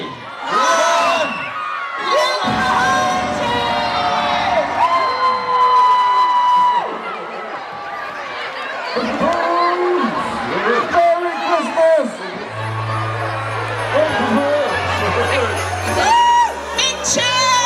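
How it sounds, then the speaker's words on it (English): A large crowd cheers and whoops loudly at a Christmas light switch-on in Folkestone, sustained shouting from many voices, with festive pop music playing under the noise. "Big cheer!"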